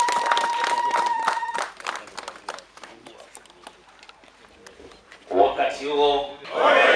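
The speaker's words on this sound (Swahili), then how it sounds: "Piga makofi mengi." Audience clapping at a district ambulance launch ceremony in Kyela, a burst of loud clapping and crowd noise near the start, a quieter stretch of scattered claps, then someone speaking loudly over the crowd at the end.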